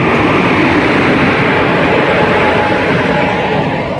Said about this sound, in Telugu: ఇది వచ్చేసానండి చెన్నై సెంట్రల్ తిరుపతి గరుడాది ఎక్స్ప్రెస్ అండి